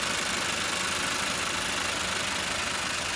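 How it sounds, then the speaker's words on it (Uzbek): A Bongo truck engine idles steadily at close range, an even, continuous mid-pitched hum with a faint rhythmic knock and no other sounds. "Motorini eshitinglar bitta."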